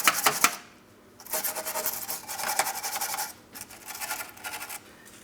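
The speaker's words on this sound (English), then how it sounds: "I'm going to use a wire brush for this." A wire brush scrubs a rusty subframe on a 2004-2008 Pontiac Grand Prix in rough, rasping strokes, with brief pauses between bursts of close, harsh scraping.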